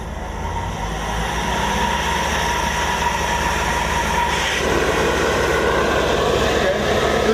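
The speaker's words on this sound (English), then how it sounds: "To increase the revolution of the engine, we need to push the green button." A machine's engine runs with a loud, steady roar, then its pitch and intensity rise about two-thirds of the way through as the revolutions are increased. No voices are heard over it.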